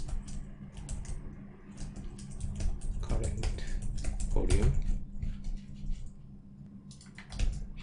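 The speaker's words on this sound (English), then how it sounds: "let me type something" Typing on a computer keyboard, a quick irregular patter of light key clicks in bursts, close and soft, with a faint hum beneath.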